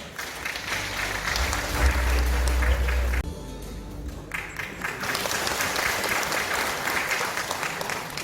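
Audience applause at the 2022 Yeongju World Punggi Ginseng Expo launch ceremony, a dense sustained wash of many hands clapping in a hall, briefly dipping before swelling again and continuing steadily, with a low hum underneath.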